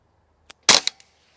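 A single sharp crack from a KalibrGUN Springbok semi-auto air rifle, loud and close, followed by a brief trailing rattle and a faint click, with silence on either side.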